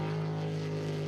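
A jetsprint boat powered by an LS engine races at a New Zealand championship round, giving a steady, loud, sustained engine roar with strong low harmonics and no break.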